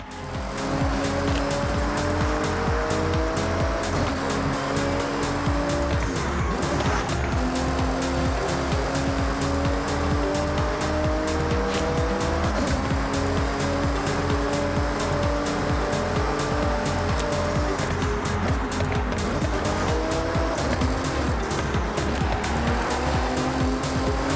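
Car driving on stock tires in Forza Horizon 6, with a steady engine drone, rising and falling revs through gear shifts and repeated tire squeal, loud and continuous throughout.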